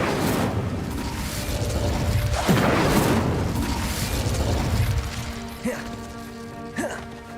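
Incendio fire spell cast in Hogwarts Legacy, a loud burst of flame and booming effects amid other game sounds, followed by softer clicks and chimes as the action settles; a voice talks over it.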